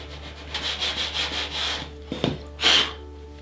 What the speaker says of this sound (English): So I've got all of my edges sanded nice